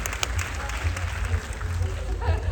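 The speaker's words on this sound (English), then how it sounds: "I disturbed your applause." Audience applause at a vegan camp-out panel, a soft continuous patter of clapping from a crowd, fairly distant and low in level, with a low rumble underneath.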